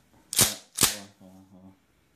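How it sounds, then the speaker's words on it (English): An airsoft gun set to three-round burst fires two sharp, close snaps in quick succession, followed by a softer mechanical hum; no talk. "If I keep it on 3 round burst, I'll get like 10 shots out of it."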